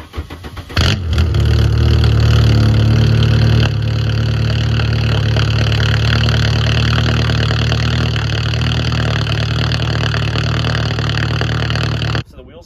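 A Volkswagen Cabrio engine fires up and its 2.25-inch straight-pipe exhaust drones loudly and raspily, revving steadily for several seconds close by, then cuts off.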